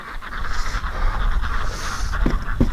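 Ducks quacking outdoors in harsh winter cold, several nasal calls over a windy, rumbling background, with two sharper quacks near the end.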